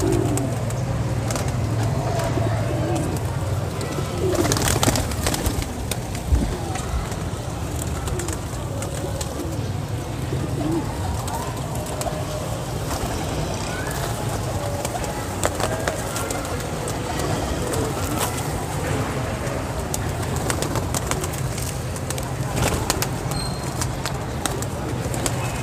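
Pigeons coo softly and repeatedly amid a busy outdoor rooftop setting, the low calls blending with steady background noise and occasional louder bangs throughout.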